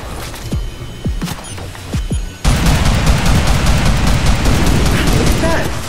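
Rifle gunfire aimed at a training dummy in the video game Merc Fleet begins as a few sharp, separate shots and then becomes a dense, loud, continuous burst of rapid fire.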